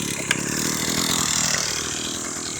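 An engine runs steadily at close range, a continuous rough rumble with a brief sharp knock near the start and no talk.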